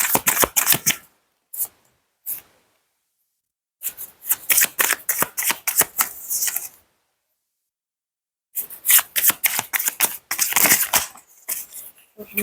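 Tarot cards being shuffled in quick, crisp bursts of riffling and slapping, close and loud, separated by short silent pauses.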